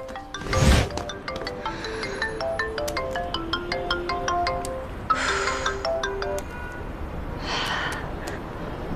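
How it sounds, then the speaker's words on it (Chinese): A phone ringtone plays an electronic melody of repeating tonal notes over several seconds, fairly loud and close. A sharp breath or gasp comes near the start and breathy bursts come later, with no clear speech. "不好意思，我接个电话。"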